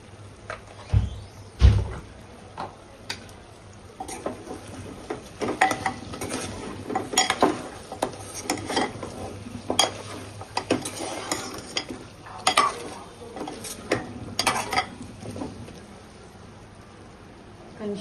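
Keema curry frying in a pan with chili powder and salt: a soft continuous sizzle under repeated spoon scrapes and stirring clatter against the pot, with occasional speech.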